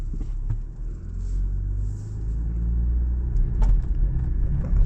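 A 2025 Land Rover Defender 110 D350 engine holds a deep, steady rumble at half throttle while its wheels slip on a slippery surface, loud and close with low, continuous road noise.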